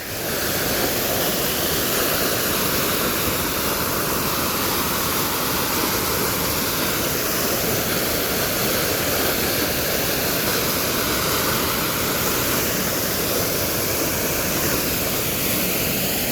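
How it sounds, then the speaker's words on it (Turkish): A tall fountain near the Eiffel Tower in Paris throws water high into the air, giving a steady, loud, continuous rushing hiss like a waterfall with no break from start to finish. "Ama bayağı havaya atıyor ha. O su geliyor."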